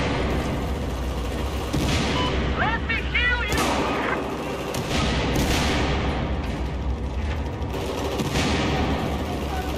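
Explosions and gunfire in Battlefield 4 multiplayer combat, a dense constant din of bursts and blasts with sharp cracks near the middle and a few louder hits, plus a brief whistling sweep, over steady loud background noise without clear talk.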